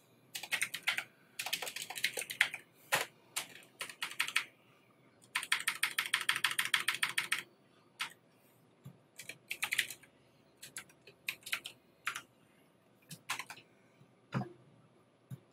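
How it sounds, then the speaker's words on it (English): Someone types on a computer keyboard in irregular bursts of rapid clicking, with short pauses and single keystrokes between, close and fairly quiet with no talk. "All this typing just to get Jay Smith out of this ticket."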